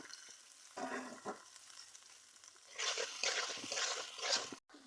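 Dried chillies, garlic cloves and chopped onion stirred in hot oil in a home kitchen pan, with bursts of sizzling and frying that swell and fade as the spatula moves, quiet gaps between, no talk.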